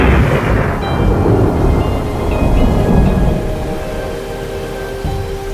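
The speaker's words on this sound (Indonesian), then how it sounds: "Akan tetapi badai sangat dahsyat." Loud rumbling thunder rolls over steady heavy rain, the roar gradually easing while the downpour continues.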